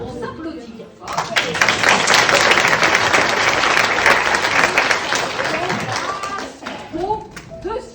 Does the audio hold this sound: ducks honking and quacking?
no